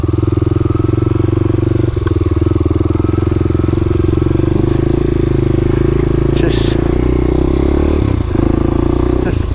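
Motorcycle engine running steadily after stalling in too high a gear, a loud continuous close-up drone with slight fluctuations.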